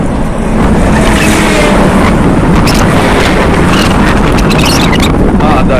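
Steady wind buffeting a microphone outdoors on a September cycling trip around Lake Ladoga, a dense, continuous low roar with gusty rumble running the whole time, loud and close with no other clear sounds.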